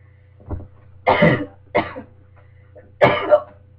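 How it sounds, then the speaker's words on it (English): Several harsh coughs close to the microphone, one faint then three louder bursts spaced about a second apart, with throat-clearing quality. "I've got like an itch in my throat, and I need to like cough it out."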